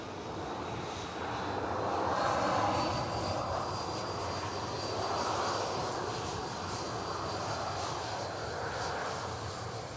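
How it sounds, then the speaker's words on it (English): A Ryanair Boeing 737-800 jet landing at Manchester Airport, arriving from Dublin, makes a steady, broad engine roar that swells and fades gently over ten seconds at moderate distance, with no talk. "Ryanair 737-800 coming in from Dublin."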